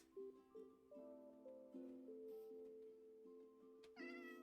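A cat meows over and over inside the Minecraft video game, the calls sounding clear and close in a steady series of short and drawn-out mews, with a brighter yowl at the very end.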